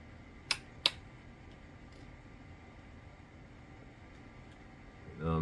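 Two quick, crisp snips of scissors cutting thorny branches on seed-grown citrus trees being pruned for bonsai, close and sharp against a quiet room, followed by a short voice near the end.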